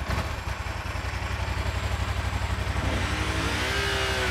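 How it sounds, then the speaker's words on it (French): A gendarmerie police motorcycle engine turns over and idles with a throbbing pulse, then revs up, its rising pitch building toward the end. "C'est la première fois qu'on allume une moto"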